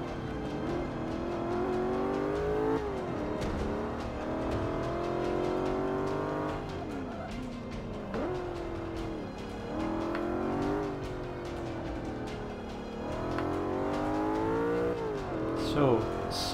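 BMW M5 race car engine in Forza 5, revving and shifting continuously through gears with rising and falling pitch sweeps, loud and steady for the whole stretch, with brief tire squeal near the end.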